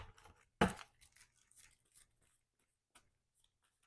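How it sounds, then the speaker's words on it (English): A Marvel Champions encounter deck of cards is shuffled close up, a sharp riffling burst followed by softer scattered rustles and taps of cards. "let's shuffle up the encounter deck"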